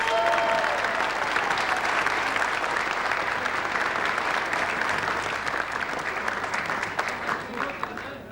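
Warm applause from a gathered crowd welcoming the Belgian national football team home from the 1986 World Cup. The clapping is dense and sustained and fades slightly near the end.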